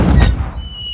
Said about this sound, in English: Right, let's fire the cannon.